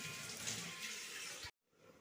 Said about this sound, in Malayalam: കുറച്ച് വെള്ളം കൂടെ ചേർത്ത് കൊടുക്കാം മീൻ വേവാൻ ആവശ്യത്തിന്